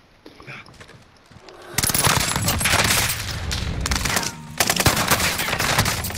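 Video game firefight with bursts of automatic gunfire, starting with faint distant shots and then breaking into loud, close, rapid volleys, with a short lull before firing resumes.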